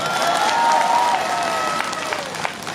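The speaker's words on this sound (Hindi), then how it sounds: "हाँ ताली जोर से बजाइए एक बार" A crowd at a public gathering in Arunachal claps loudly in a dense, sustained burst of applause with a few scattered cheers, close and full, tapering slightly toward the end.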